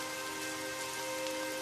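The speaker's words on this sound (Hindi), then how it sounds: "तेज बारिश और बर्फीली हवाएं" Heavy rain in a village on a cold night, a dense, even hiss of falling drops with no breaks, steady and moderately faint.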